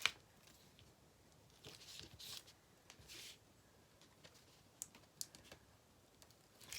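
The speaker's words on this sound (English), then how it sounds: "Now I'm just going to peel off all my backing of my tape here." Adhesive tape backing being peeled off during a paper craft project, heard as a few soft, brief tearing strips with light papery handling and scattered small ticks, quiet and close, with no talking.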